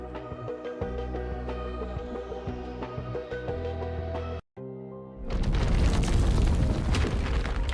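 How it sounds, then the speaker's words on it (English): A loud explosion erupts in a video game: after sustained musical tones and a brief drop to silence, a broad, roaring blast bursts in and rumbles on at full strength to the end. "Sound of explosion went out."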